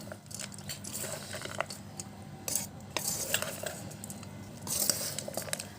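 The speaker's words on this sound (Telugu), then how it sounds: "ఇందులోనే రుచికి సరిపడినంత ఉప్పు, అలాగే dry mango powder, chaat masala, కొద్దిగా చిల్లీ పౌడర్ వేసేసి మొత్తం ఒకసారి మిక్స్ చేసుకుంటే సరిపోతుంది." A spoon clinks and scrapes while mixing bhel puri with salt, dry mango powder, chaat masala and chilli powder, giving a close, quiet run of rustling stirs and light metallic taps.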